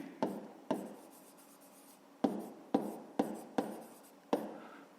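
Pen strokes on paper in an exercise book during a fifth-grade maths lesson: a series of short, sharp scratches come in irregular bursts, each fading quickly, close and fairly quiet with no talking.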